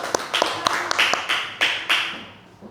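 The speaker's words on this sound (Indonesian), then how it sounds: "Tepuk tangan anak-anak ya untuk kelompok 2" Children in a classroom clap for a group of classmates, the sound coming as a few sharp, close taps and short bursts of hand claps that fade quickly, without any voices.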